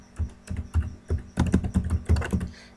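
Close, crisp typing on a computer keyboard as a company name is entered, a quick run of evenly paced key taps in two short bursts, alone without speech.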